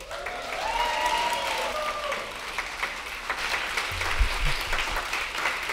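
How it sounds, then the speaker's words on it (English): A room full of people applauds steadily at a city council oath of office ceremony, dense clapping holding at a constant level throughout with a faint low murmur underneath. "I usually don't allow applause"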